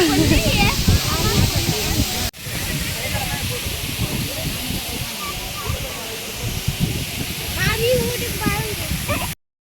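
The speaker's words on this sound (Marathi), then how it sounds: "बघा हे पाणी धबधबा आहे बरं का हा." Rushing water roars steadily as a waterfall, loud and close, with people talking faintly over the constant wash.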